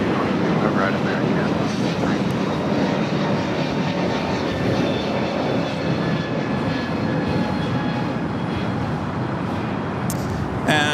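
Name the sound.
airliner taxiing at LAX airport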